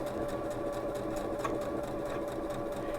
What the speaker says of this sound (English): This buttonhole is going to start by straight stitching back